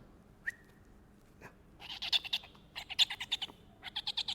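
A trained owl calls indoors in a theatre, giving a series of short, bright, chirping hoots in quick bursts, fairly close and alone with no talk.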